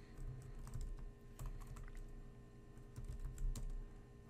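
Keys clack in quick irregular bursts as a Linux command is typed on a computer keyboard, close and fairly quiet, with a faint steady hum underneath and no voices.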